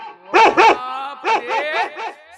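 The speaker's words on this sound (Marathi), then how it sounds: "साला हा कारा कुत्रा भुकते तर भुकते हे लालवाली कुत्री जास्त भुकत आहे" Dogs bark during a stage comedy play, a black male and a red female: two loud, close barks, a short pause, then four quicker barks in a row.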